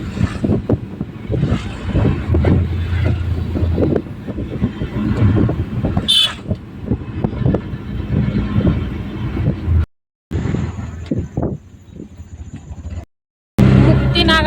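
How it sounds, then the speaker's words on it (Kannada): Cold wind buffets the microphone outdoors on a village road, a loud continuous rumble that swells and drops while people talk over it. "ಏನ್ ಕಣ್ಣು ಗಾಳಿ ಬೀಸ್ತೈತೆ ನೋಡು"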